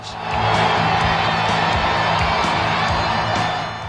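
Wrestling arena crowd roars in support of Hulk Hogan, a loud, sustained cheer with whoops and clapping rising over a constant din.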